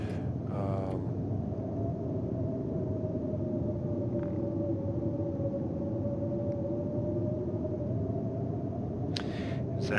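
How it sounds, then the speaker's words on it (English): Storm wind in the video game The Long Dark, heard as a steady, muffled roar that holds evenly for the whole stretch with no voices. "It doesn't sound like this storm is going to give up anytime soon."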